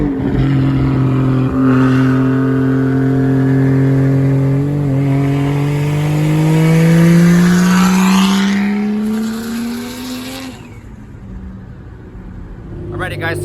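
A 2JZ-GTE swapped Nissan S13 revs on dyno rollers, its engine note climbing and falling in long sweeps, loud and close, with a sharp drop near the end before picking back up.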